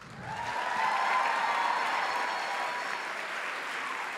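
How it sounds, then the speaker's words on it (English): A crowd at a book award ceremony applauds steadily for the winner, a dense wash of clapping that swells quickly and holds at a strong, even level throughout. "Please give a big round of applause to the winner"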